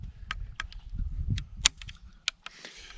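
Sharp cracks and pops from a shooting session with a muzzle loader, one shot fired one-handed while handcuffed, close and dry, mixed with handling clatter and no talking.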